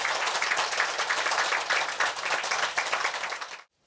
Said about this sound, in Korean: 큰 박수로 개원 법회를 시작하겠습니다